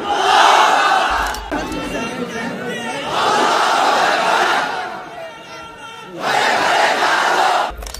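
A crowd at a religious sermon gathering roars back in loud unison, a massed shouted chant answering a takbir call, with surges around the start, middle and end of the stretch.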